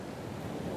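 Strong wind roars steadily around a hot air balloon in a video game, a brief, even rush of broadband noise with no voices.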